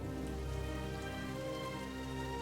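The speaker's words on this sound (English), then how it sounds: "Oh, and it's raining," Steady rain falls with a continuous even patter, constant and alone with no voices, filling the whole stretch at a moderate level.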